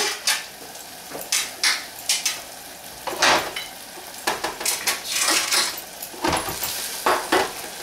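Juice from salmon is added to a sauce in a pan and stirred in, with a steady sizzle under repeated scraping and clinking of a utensil against the pan, close and fairly loud.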